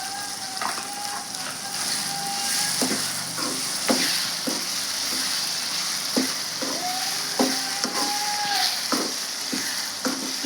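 Stuffed eggplant curry with turmeric sizzles steadily in a pan while a spoon scrapes and stirs in repeated close strokes.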